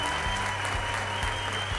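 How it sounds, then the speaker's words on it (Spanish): A crowd at a children's competition final claps loudly and steadily for a third-place girls' winner, dense close applause filling the whole moment. "Con un fuerte aplauso, por favor."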